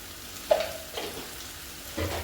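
A spiced masala of turmeric, homemade chutney and black masala for a chickpea curry fries in oil, giving a soft, quiet sizzle with a couple of brief louder bursts as it is stirred.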